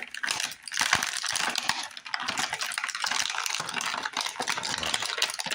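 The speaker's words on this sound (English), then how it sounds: "Get that plastic noise." Plastic packaging around an action figure toy is torn and crinkled open up close, a dense stretch of crackling, crunching rustles with sharp pops and brief pauses throughout.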